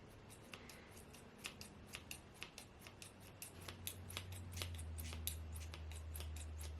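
Kitchen scissors point cutting hair at home: a long run of quick, crisp snips in a steady rhythm, soft and close, over a low hum that grows slightly stronger toward the end.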